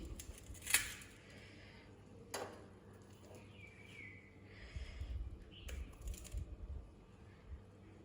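Roasted mangoes set down one by one onto a plate, making a few faint, sparse knocks and clatters spread over quiet background.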